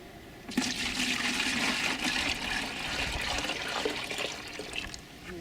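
Compost extract poured into a container partly filled with water for a plant transplant drench, a steady continuous liquid pour and splash, close and fairly loud for about five seconds with no talking.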